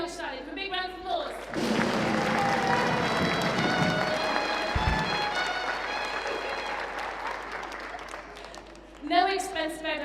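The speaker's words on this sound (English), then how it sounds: "Thank you very much, Sally. For a big round of applause." An audience applauds a teacher at a music event, a broad burst of clapping that swells after a short spoken introduction, holds steady for several seconds and then fades as a voice resumes speaking.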